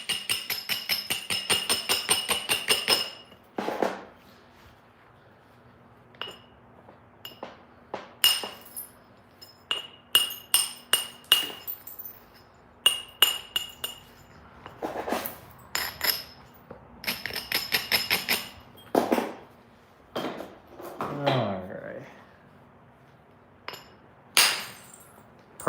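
Flint knapping, with stone struck against stone to take off a big gouge, gives a string of sharp, glassy clinks and taps. Some come in quick runs and others are spaced apart, all close and fairly loud with quiet gaps between.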